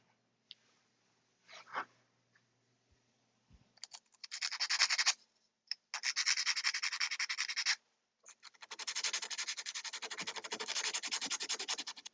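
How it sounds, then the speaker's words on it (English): Dry, raspy sanding strokes on a small prop coin come in several bursts, steady and close, with short pauses and a faint rubbing sound early on. "Feels like the sanding is pointless."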